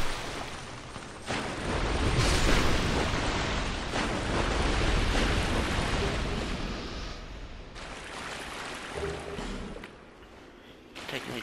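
Enemies in Dark Souls 2 burst in fire explosions: a rumbling, roaring blast that swells and lingers among the game's ambient sounds, with a second softer burst near the end.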